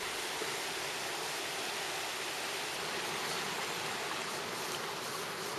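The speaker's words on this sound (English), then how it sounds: "Look at this amazing waterfall." Waterfall near a home, a continuous broad roar of rushing water, steady and moderately loud with no talk over it.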